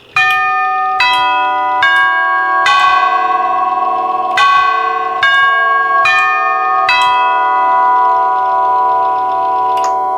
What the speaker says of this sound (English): when I push the button, the motor should activate, the rotor will rotate, making the connections and ring the chime